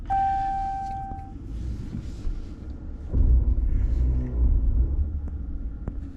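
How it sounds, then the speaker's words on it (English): A 2022 Ram Rebel G/T pickup crawls off-road in four-wheel drive, its engine giving a steady low rumble that swells louder midway, with a brief whine early on and no voices. "we're gonna go ahead and shift into four-wheel drive high"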